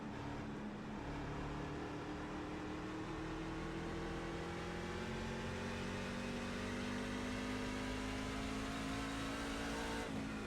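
Race car engines in the iRacing sim drone steadily at high revs as a pack runs single file, a continuous loud whine with slowly rising pitch that stays unbroken throughout.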